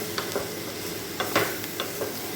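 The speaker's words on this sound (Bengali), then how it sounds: "নুন দিয়ে ভালো করে নাড়াচাড়া করে দেবো।" Chicken momo filling cooked in a little oil over a low flame, stirred after salt goes in: faint steady sizzle with a few soft spatula scrapes and taps in the pan, close and quiet, without speech.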